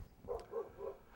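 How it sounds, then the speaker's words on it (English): Neighbors' dogs bark at a distance behind a house's backyard, three faint muffled woofs in an even rhythm. "They have dogs. You can hear them barking in the background"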